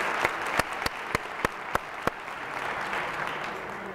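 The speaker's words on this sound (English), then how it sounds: "Let's give our police officers a big round of applause" An audience at a 2013 Northern Manhattan civic address applauds police officers. A few sharp, separate claps ring out first, then swell into a dense, even round of clapping that carries on alone.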